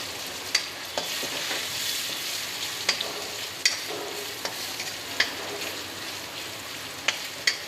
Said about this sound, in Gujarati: હવે આ મરચાં વઘાર પડશે હવે ટમેટું એક નાખી દઈશ